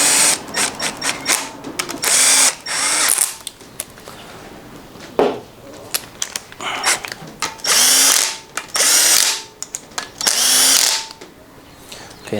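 Power tool tightening transmission bolts during a 4L60E rebuild, short loud bursts of whirring and ratcheting separated by pauses and small metallic clicks, close up.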